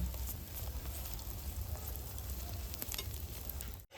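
A potato paratha fries in a spoonful of oil on a pan, giving a continuous soft sizzle with faint crackles throughout, fairly quiet and close, cut off abruptly at the end.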